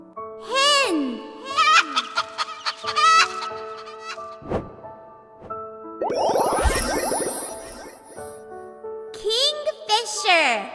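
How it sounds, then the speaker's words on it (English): A hen clucks in loud, close bursts, mixed with rooster-like crowing calls and a bright chime-like ding between them. "Hen!"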